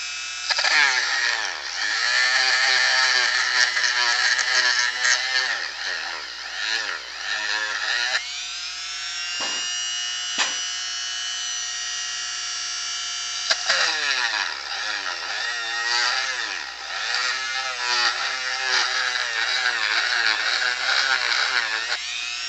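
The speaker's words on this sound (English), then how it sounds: "I do have my Dremel here, and so fair warning, anyone using earbuds to listen to this, it's gonna sound terrible, sound like the dentist" Dremel rotary tool grinding in a shop, a high, shrill whine like a dentist's drill that runs loud and steady for long stretches, briefly cutting out and restarting, with pitch wavering as it bites the work.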